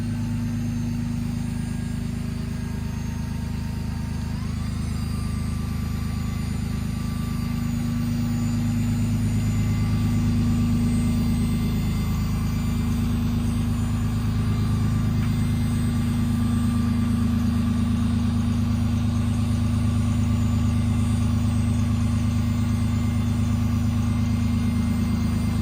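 Hydraulic pump on a 2022 Ford F550 diesel 4WD service truck runs the 3,200-pound IMT electric-over-hydraulic crane, a steady low drone with engine idle, unbroken and loud for the whole stretch.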